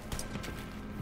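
A horse gallops in the Wolfenstein: Youngblood video game, its hooves thudding in a quick, rolling rhythm under a dense game soundscape for about a second.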